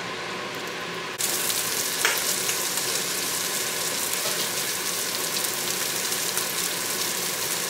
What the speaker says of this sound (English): Doesn't take long at all to actually brown a little bit the sausage.